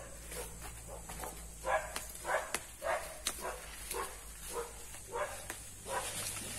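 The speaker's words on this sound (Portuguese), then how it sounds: "os cachorros estão ali brigando" Dogs barking and scuffling in a brief fight outdoors, with a series of sharp barks and yelps at moderate distance over a steady background hum.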